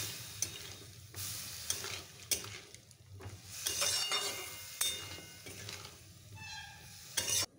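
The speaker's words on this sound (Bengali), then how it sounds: "মশলাটা দেখো দিয়ে আমি একটু ভালো করে নাড়াচাড়া করে জল দিয়ে দেব।" Ground spice paste is stirred in a hot pan, spatula scrapes and metallic clinks against the pot recurring irregularly over a low sizzle, close and quiet, with no one talking.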